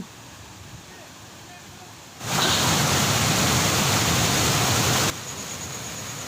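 Rain-swollen waterfalls in Nellore pour into a deep valley as a loud, even rush of water that swells in suddenly, holds steady for about three seconds, then drops back to a softer background hiss.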